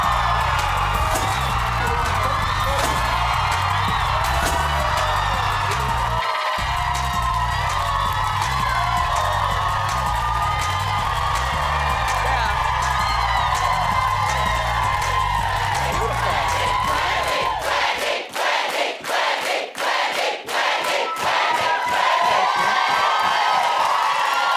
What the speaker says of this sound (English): I live for the roar of the crowd